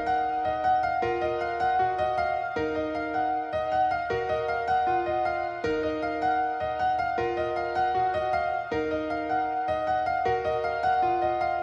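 A dark piano melody pattern programmed in FL Studio for a beat, looping a steady repeating phrase of sustained chords and notes at an even level, with no voices.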